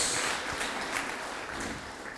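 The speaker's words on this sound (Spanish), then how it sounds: "Dale un aplauso a Jesucristo, por favor." A church congregation claps together during a Spanish-language sermon, a soft, steady wash of applause heard from some distance for a couple of seconds.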